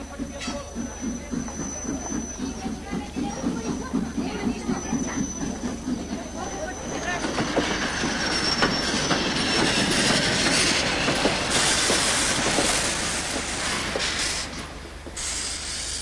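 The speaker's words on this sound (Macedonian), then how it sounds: "Возот од Горна Џума е пристига на првиот колосек." A passenger train pulls in at the first platform of a station, with wheels clattering over the rails and brakes squealing loudly as it slows, while voices carry faintly beneath the rolling noise.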